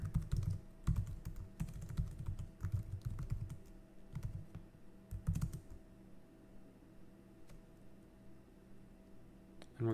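Code being typed on a computer keyboard: dense bursts of clicking keystrokes for the first half, then sparser, softer taps with an occasional single key, close up and with no talking.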